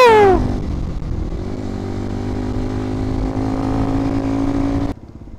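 A motorcycle climbs the Palanan hills in a remote Philippine area, its engine revving high then settling into a steady, loud drone with strong harmonic tones before cutting off abruptly near the end.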